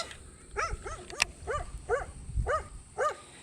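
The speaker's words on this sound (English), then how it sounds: "this dog's going crazy at me" A dog barks repeatedly at someone fishing for bass with a weedless frog lure on an Illinois pond, roughly six evenly spaced sharp barks over steady outdoor background noise.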